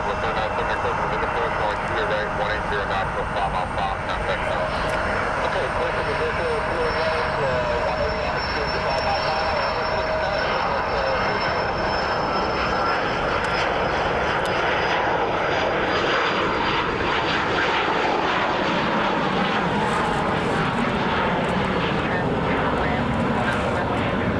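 A Cessna Citation Mustang business jet rolls along at an airport, a steady loud whine and roar of its engines filling the whole stretch, with a high tone sliding down over time and a voice talking over it.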